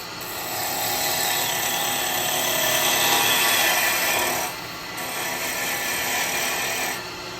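Wood lathe spinning a snowman lidded giftbox blank while a tenon is turned, giving a steady broadband cutting hiss that dips briefly near the five-second mark and again near seven seconds, close and continuous with no talking.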